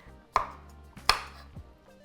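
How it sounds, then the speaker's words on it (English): Knife chopping broccoli roughly on a board: three sharp, close cuts spaced unevenly over about two seconds, with no talking. "I'm just gonna roughly chop up this broccoli"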